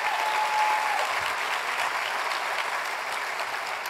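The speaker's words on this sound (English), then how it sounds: "I think that deserves a cheer, right?" An audience at an event applauds and cheers, with a thick wall of clapping and crowd noise that starts loud and tapers slightly, sustained for several seconds with no speech.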